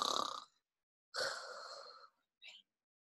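Several breathy, wheezing snore imitations by human voices, two longer rasping breaths and a short final one, close and fairly quiet.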